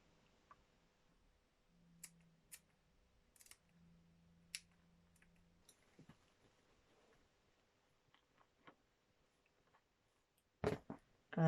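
Scissors cut through faux fur fabric by hand, one layer at a time, for a scarf: faint, sparse snips and clicks spread over quiet stretches, with a sharper burst of crisp snipping near the end.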